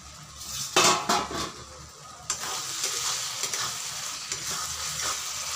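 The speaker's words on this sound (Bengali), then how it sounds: "মশলাগুলোকে বেশ ভালো করে কষাতে হবে" Spices being stirred and fried for Bengali chicken kosha, metal utensil scraping and clinking against the pan in a burst, then a steady close sizzle with occasional stirs.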